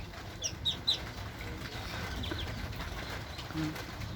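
Young ducklings give a few faint, high peeping calls early on, then one more near the end, over a low background murmur.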